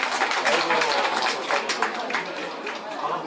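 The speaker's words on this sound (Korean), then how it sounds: "큰 박수 부탁드리겠습니다" An audience at a Busan International Film Festival report on the festival's independence breaks into loud, sustained applause and clapping from a crowd, with some chatter mixed in, fading slightly toward the end.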